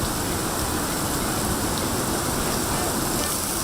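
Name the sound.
heavy rain falling at a drag strip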